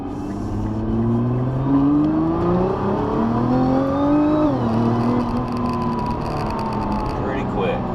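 A 2020 Nissan GT-R pulls hard in second gear under manual mode, its engine note climbing steadily, dipping briefly at a shift, then droning on at speed, loud and close inside the cabin.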